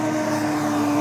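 A FlightLine RC F7F Tigercat 1600mm twin-engine model plane flies past at an outdoor flying event, its electric motors giving a steady loud droning whine that swells slightly as it approaches, with no talk.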